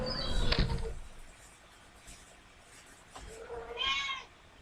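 A pet cat meows twice, a loud drawn-out cry up front and a shorter, fainter one near the end, with quiet room tone between.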